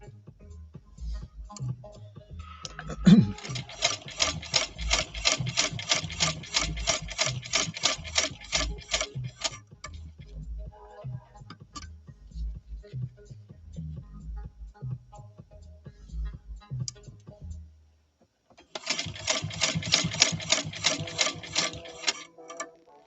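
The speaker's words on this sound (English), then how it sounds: "Try to stitch around the outside a little bit." A home sewing machine stitches on denim in rapid mechanical bursts, running for a long stretch and then pausing briefly before starting again. Light handling noises are mixed in.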